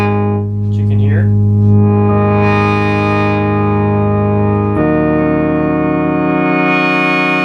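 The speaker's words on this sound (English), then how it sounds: "You've also got a tone control here, which is like a brightness control" Moog synthesizer holding a sustained, harmonically rich tone as its tone control sweeps the brightness, the timbre opening and closing in steps, loud and close, with no talk.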